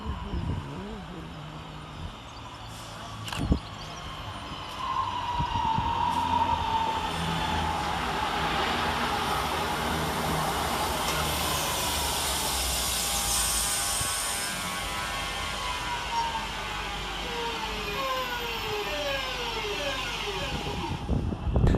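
A Northern electric multiple unit, 323238, rolls into a suburban station on a Crewe to Manchester Piccadilly service, its rumble building to a loud steady roar with whining motors, then easing as it slows, with a rattle and clunk at the end.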